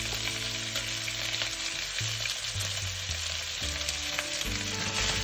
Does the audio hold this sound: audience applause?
no